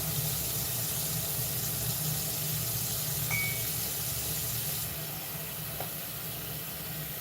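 Plain tap water runs or pours steadily indoors as a continuous broadband hiss, fairly close and even, with a faint brief clink partway through and no talking.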